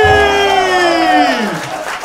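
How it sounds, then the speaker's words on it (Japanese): Applause and crowd noise from the audience at a beatbox battle competition, loud and steady throughout, with a sustained tonal sound sliding downward as it fades. "クマにも大きな拍手。"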